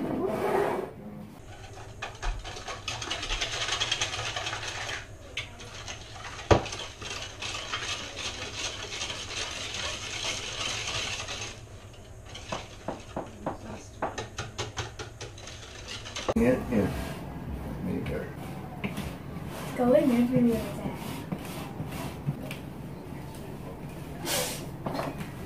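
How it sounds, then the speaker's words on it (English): Butter and sugar being mixed by hand into cupcake batter, a faint, steady scraping and rubbing that continues throughout, softer and more irregular in the later part. "Now you need to mix."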